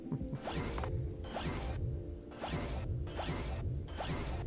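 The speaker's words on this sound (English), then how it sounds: "The sound effect when you zoom in the ocean sort of cuts off abruptly." Zooming into the ocean in the game Kami Quest brings a steady mechanical whirring with rhythmic ratcheting pulses and periodic swooshing surges that stops abruptly, loud and continuous.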